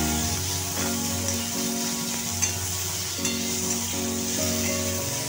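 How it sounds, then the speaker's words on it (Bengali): Onions frying in hot oil with spices in a home kitchen, a steady close sizzle and crackle under layered music, stirred now and then. "এবার ফোড়নের মধ্যে পেঁয়াজটা দিয়ে পেঁয়াজটা ভালো করে ভেজে নেব।"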